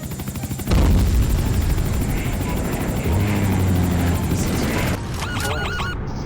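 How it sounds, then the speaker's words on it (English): A plane flown inside a house in the Garry's Mod sandbox game, heard as a loud, steady rotor-like engine drone that fills the clip before cutting off near the end, with other game noises over it. "Freaking trying to goddamn fly a plane in the house."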